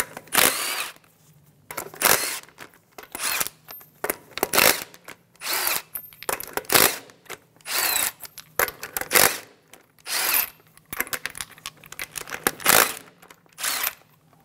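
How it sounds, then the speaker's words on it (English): A power tool with a 22 mm socket zips off the six lug nuts on a 2007-2017 Ford Expedition front wheel, a series of short, sharp whirring bursts repeating roughly every second or two, close and loud. "Using a 22 millimeter socket, we're going to remove the 6 lug nuts."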